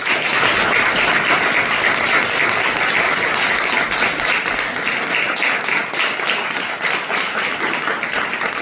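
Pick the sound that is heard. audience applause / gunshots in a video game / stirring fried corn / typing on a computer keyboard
audience applause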